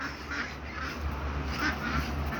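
Ducks quacking and honking in a backyard near a tomato garden, repeated nasal calls mixed into a dense, steady outdoor noise, fairly close and continuous.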